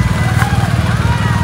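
Police motorbike engine running close by, a loud, steady low rumble with a rapid pulsing throb, while people talk over it.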